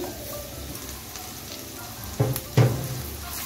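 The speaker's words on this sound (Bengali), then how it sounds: "এখন আমি সব কিছু আরও 2 মিনিটের মতো কষিয়ে নিচ্ছি।" Green chili and red chili powder sauté with turmeric in a pan for a banana-flower chop, a steady soft frying hiss broken by two louder stirring scrapes near the end.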